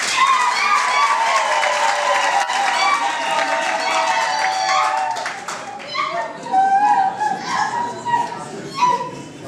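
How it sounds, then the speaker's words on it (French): Wedding guests clap together in a dense, lively burst that fades after several seconds. Loud chatter and voices, including children's, rise underneath and then take over. "Applaudissez pour vous"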